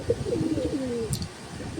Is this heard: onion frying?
no